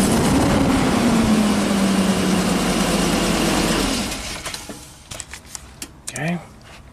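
A Ford E450 bus with a swapped V10 engine fires up and runs loudly with a rising and falling drone for about four seconds, then cuts off, leaving scattered clicks, clunks and a brief voice.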